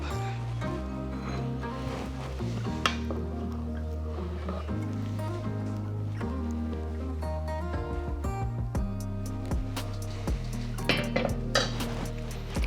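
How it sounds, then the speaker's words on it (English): Potato and leek soup is ladled into a bowl, with soft clinks and scrapes of the ladle against pot and bowl and gentle wet sloshing under a low steady hum, close and unhurried. "Let's ladle up."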